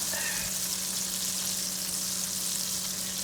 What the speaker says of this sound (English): And as that's sizzling around, make sure the butter's good melted.